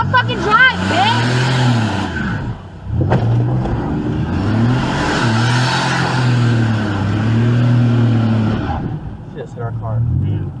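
Another car strikes the dashcam car in a road-rage incident, with a loud engine drone, tyre squeal and a sharp impact near the middle, and agitated voices shouting over it.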